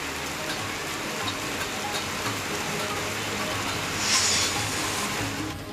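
Steady rain falls throughout, a dense even hiss of drops on surfaces with a brief swell partway through.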